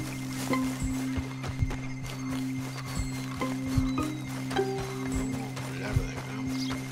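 Rhythmic horse hoofbeats clip-clop at a steady trot in the video game Red Dead Redemption 2, over a constant low background hum, with occasional soft game-like effects.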